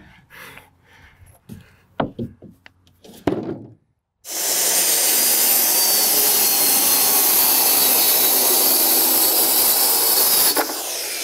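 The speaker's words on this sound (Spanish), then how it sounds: "antes de cortar la siguiente tabla" A power saw cuts a wooden board for a shed wall. Quiet handling knocks lead into a loud, steady, close whine that runs for about six seconds before cutting off.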